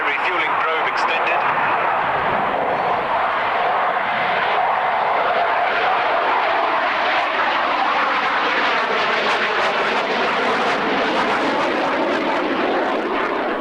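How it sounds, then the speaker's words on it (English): A military jet at the Coningsby airshow in 1993, gear down and refuelling probe out, pulls a tight high-G turn. Its engine roar is loud and sustained, with a shifting whine, while a commentator talks over it. "Coming round in a very tight radius turn, pulling very, very high G as he turns around to stay within the airfield boundaries"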